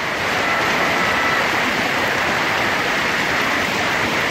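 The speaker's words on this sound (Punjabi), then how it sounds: "ਸਾਵਨ ਦਾ ਮਹੀਨਾ ਤੇ ਤੇਜ਼ ਬਾਰਿਸ਼" Heavy monsoon rain pours steadily during the Sawan rainy season, a dense, loud, continuous hiss and patter of downpour close by with no voices.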